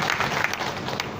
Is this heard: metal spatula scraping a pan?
no